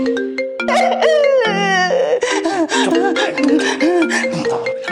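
A mobile phone plays a loud melodic ringtone, a bright run of tonal notes that rises and shifts for several seconds indoors, with no other sounds over it.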